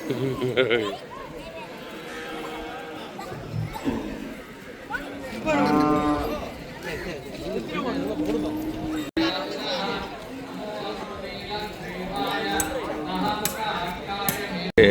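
Cattle gathered at a Patti Pongal cattle festival in Jaffna moo repeatedly, with long drawn-out calls rising over a busy crowd, while people talk nearby throughout.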